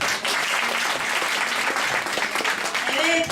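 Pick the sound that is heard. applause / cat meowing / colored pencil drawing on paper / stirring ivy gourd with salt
applause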